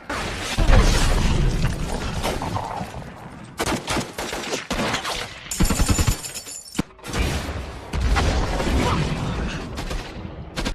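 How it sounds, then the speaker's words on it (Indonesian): Intense battle scene from the film Lone Survivor: rapid bursts of heavy gunfire, booming RPG blasts and shattering impacts, loud and chaotic with brief gaps between volleys. "RPG dan tembakan bertubi-tubi dari Taliban kembali dilancarkan ke arah mereka"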